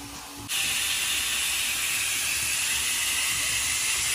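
Pressure cooker on a high stovetop flame, hissing steadily with escaping steam at full pressure; the broad, loud hiss starts abruptly after a brief quieter moment and continues unbroken to the end.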